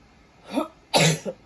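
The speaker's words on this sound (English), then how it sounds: "Oh, I'm going to sneeze." A woman's sudden sneeze or cough, one short burst followed by a sharper, louder explosive release, close and isolated in a quiet room.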